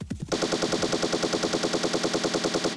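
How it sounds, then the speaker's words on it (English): A sampled machine-gun effect from an iOS sound font sampler synthesiser fires one loud, continuous rapid burst of evenly spaced shots lasting a few seconds, close and unaccompanied. "The machine guns at the glue factory."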